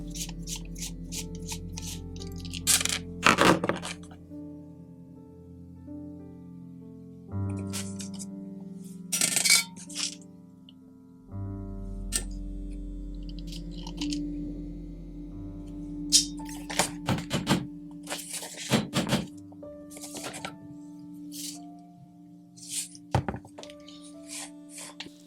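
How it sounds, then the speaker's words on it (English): Small brush caps are unscrewed on a Makita router, giving sparse clicks, scrapes and light plastic taps at close range with quiet pauses between them. "Those little caps I'm unscrewing allow the user to quickly access the brushes for maintenance."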